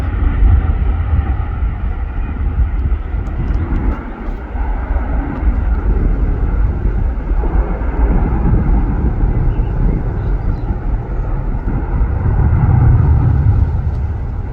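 An Atlas Air Boeing 747 at Manchester Airport gives a long, loud, rumbling engine roar with wind buffeting, building again toward the end.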